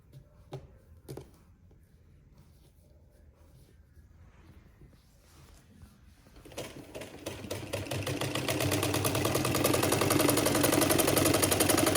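Quiet handling of fabric gives way to a sewing machine stitching a homemade scarf, starting softly and building into a loud, steady whirring run for the second half.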